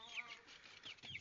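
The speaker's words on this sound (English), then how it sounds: "This is about 50 broilers there" Three-week-old broiler chickens in a flock peep and chirp softly in brief high calls, faint and close together, over a quiet background.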